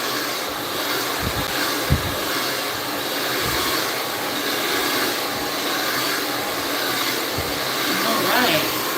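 A hair blow dryer runs continuously with a loud, steady whooshing hiss while someone speaks over it at home.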